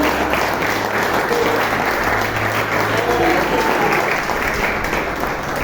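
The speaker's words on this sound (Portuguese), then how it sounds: "Será que você pode aplaudir a Jesus?" A church congregation applauds steadily throughout, a dense, sustained wash of clapping from a large crowd with no break.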